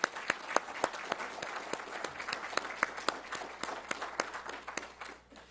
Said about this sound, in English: help me give them a round of applause.